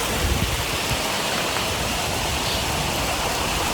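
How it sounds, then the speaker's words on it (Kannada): Heavy rain pouring down in a village, with the drains already overflowing: a dense, loud, unbroken roar of falling water on surfaces, steady from start to finish with no one talking. "ಎಷ್ಟು ಮಳೆ ನೋಡಿ, ಎಷ್ಟು ಜೋರು ಮಳೆ"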